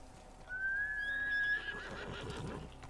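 A horse in the video game Ghost of Tsushima gives one clear rising whinny lasting about a second, followed by softer snorting and faint hoof movement, with no talk.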